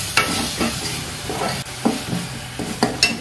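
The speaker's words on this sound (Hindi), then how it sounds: "ये देखिए हमारा टमाटर भी अच्छे से भुन चुका है।" Tomatoes fry in a pan for soyabean chaap curry, with a steady soft sizzle under repeated scraping strokes of a spoon stirring them, close by.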